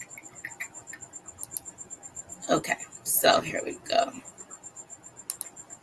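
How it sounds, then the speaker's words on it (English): Crickets chirp in steady high repeating pulses throughout, someone speaking briefly over them in the middle. "My crickets are chirping"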